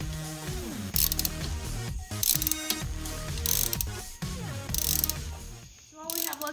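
Ratchet wrench tightening a 13 mm nut on top of a Jeep Wrangler TJ front suspension during a lift install, repeated bursts of rapid clicking with brief pauses between strokes, close and fairly loud with no talk.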